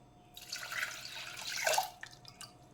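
About two and a half cups of water pour in a short splashing stream into a vessel for sambar, swelling then tapering off, with faint drips after; no talking.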